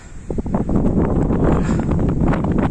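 Steady wind buffeting a microphone outdoors in a field, a loud broadband low rumble that persists throughout with no clear talk.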